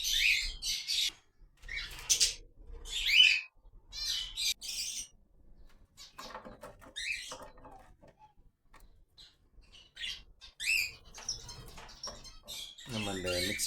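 Finches and mixed colony birds chirp and squawk in bright bursts around a feeder as food is set out, close by, with a person talking between and over the calls.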